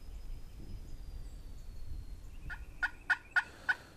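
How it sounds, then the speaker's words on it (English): Wild turkey gobbling out in the woods, several short sharp calls repeating at a steady rhythm, mid-distance and fairly clear over faint background hiss. "that gobble was straight out in front"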